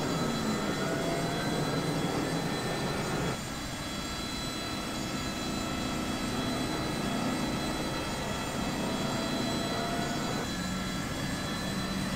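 Jet engine of a Lockheed F-104 Starfighter in a video game, a loud continuous roar and whine that steps up in intensity partway through and holds steady throughout, with no talking over it.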